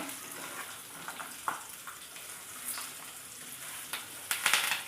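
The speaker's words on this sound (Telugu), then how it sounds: "నూనె వేడెక్కిపోయింది ఇవి కూడా వేసేస్తున్నాను" Ingredients sizzle and crackle in hot oil while a tamarind-rice tempering is fried, with a steady frying hiss and occasional sharper pops and spits, fairly close.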